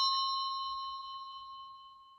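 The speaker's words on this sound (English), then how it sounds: "We gotta change that gong, you know." A meeting gong is struck once at a transit board administrative meeting, a bright metallic ring that hangs and slowly decays over about two seconds, alone and fairly clear.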